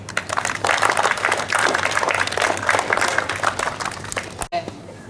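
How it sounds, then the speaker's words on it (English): Applause from children and teachers at a school assembly fills the hall with steady, loud clapping for several seconds, ending abruptly with a short knock. "Let's clap for him."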